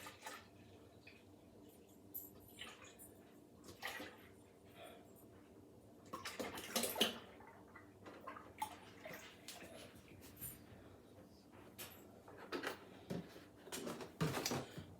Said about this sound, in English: Pour the milk into the pot.